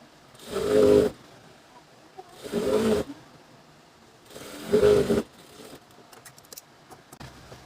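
A sewing machine stitching a hijab runs in three separate bursts of about a second each, with quiet pauses between them and light handling clicks toward the end.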